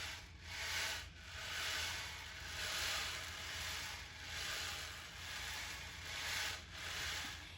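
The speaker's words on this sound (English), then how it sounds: "I put grains of rice inside my drum. And listen to what it sounds like when I rub it back and forth." Rice grains rubbed back and forth inside a hand drum produce a soft, swelling rain-like hiss in repeated slow waves, faint and close, with no talk.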